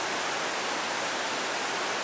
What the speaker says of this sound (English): It's a really nice waterfall over there.